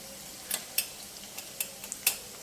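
Ginger and garlic frying in a pan while being stirred, with soft sizzling under a series of sharp, irregular utensil scrapes and clinks against the metal.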